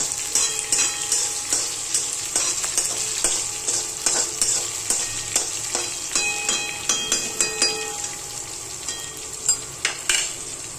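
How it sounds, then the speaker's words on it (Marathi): Village okra with garlic and onion frying in a pan, a steady sizzle with repeated scraping and stirring taps throughout, close and fairly loud. "आणि आता याला चांगलं फ्राय होऊन द्यायचं."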